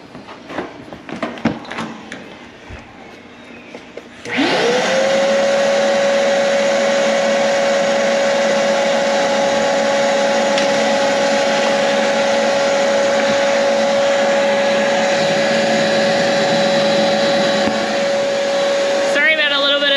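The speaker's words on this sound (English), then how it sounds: "just send the vacuum down in there" A vacuum cleaner cleans inside a JA Roby cuisiniere wood cookstove, switching on after a few seconds of small clatter and then running steadily with a loud, close, continuous whine until near the end.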